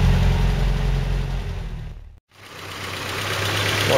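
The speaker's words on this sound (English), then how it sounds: "So we might be able to drop the idle speed now." Land Rover Series 3 engine idling after a distributor rebuild, a steady low knocking rumble that cuts out abruptly for a moment midway, then resumes and settles back to an even idle, close and loud.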